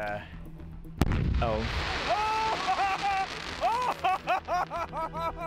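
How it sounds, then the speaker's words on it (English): A firework shell fails to lift and explodes on the ground: a sudden loud explosive boom, followed by a crackling roar and whistling, warbling shrieks, then a rapid series of popping bursts with voices underneath. "That's what happens when a firework doesn't lift."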